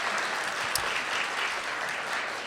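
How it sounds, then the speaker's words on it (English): A steady, dense round of audience applause fills the whole stretch, continuous and fairly loud, honoring a performer at a community theater's first-anniversary gathering. "a round of applause for Marty McNulty in that last show, who played Bill Cole as well"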